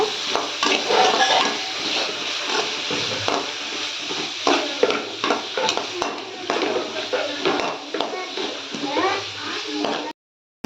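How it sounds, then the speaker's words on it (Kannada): Cashews sizzling as they fry in oil in a pan while making paneer gravy, a steady frying hiss broken by clinks and scrapes of a utensil stirring against the pan, with no break until it cuts off abruptly near the end. "ಗೋಡಂಬಿನೂ ಹಾಕ್ಕೊತಾ ಇದ್ದೀನಿ ಇದನ್ನು ಸ್ವಲ್ಪ ಎಣ್ಣೆ ಫ್ರೈ ಮಾಡ್ಕೊಳ್ಳೋಣ"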